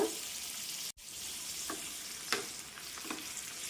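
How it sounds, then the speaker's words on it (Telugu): Mustard seeds, fenugreek seeds and cumin frying in hot oil for a carrot pickle, a steady crackling sizzle broken by a brief dropout and a few soft scraping stirs. "ఒక పావు టీ స్పూన్ ఆవాలు ఒక పావు టీ స్పూన్ మెంతులు ఇవి కొంచెం వేగాలన్నమాట"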